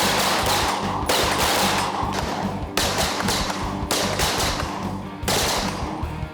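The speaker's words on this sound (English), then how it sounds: "Look, I'm gonna fire, Lee!" Dense, loud gunfire from a tactical shooting drill in a Navy SEAL-style modern shooter course, with rapid overlapping shots in several sustained bursts separated by brief gaps, close to the mic.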